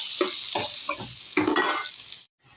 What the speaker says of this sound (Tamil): மல்லித்தூள் ஒன்று கொஞ்சம் பொடியும் போட்டு நல்லா வதக்கணும்